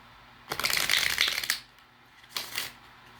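Cards are shuffled twice, close up: a long riffling burst of about a second, a brief pause, then a shorter riffle.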